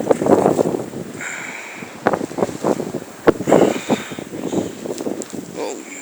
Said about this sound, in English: the wind and the snow just kind of speaks for itself right there